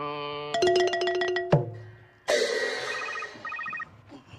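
A mobile phone rings in the audience during a Thai stage play opening ceremony, loud chiming melodic ring tones in bursts with pauses, then a second repeating beeping ringtone pattern.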